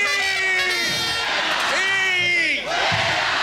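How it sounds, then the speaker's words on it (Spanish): Crowd booing and jeering at Marlene Funes during a pension reform session, a loud continuous mass of shouting voices with drawn-out calls and whistles rising over the din. "no podían faltar los abucheos a la licenciada Marlene Funes"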